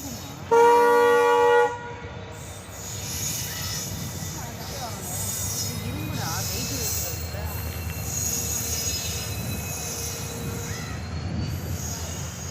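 A train horn blasts briefly, then a train rumbles and squeals steadily past nearby, with voices faint in the background.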